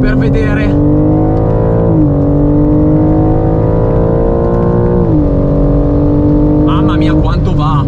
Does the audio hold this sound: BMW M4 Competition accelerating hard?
yes